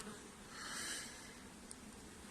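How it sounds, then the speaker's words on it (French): A swarm of bees at a hive: a soft, continuous buzzing drone that swells slightly midway, faint and close, with no talk. "c'est un bel essaim quand même"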